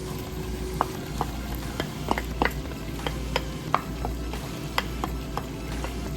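Chopped onion sautéing in bacon grease and melted butter for chipotle bacon mac and cheese, a continuous close sizzle punctuated by regular scraping taps of a stirring utensil, with no voices.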